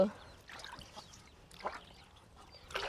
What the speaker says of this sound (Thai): เป็ดมาแล้วนะทุกคน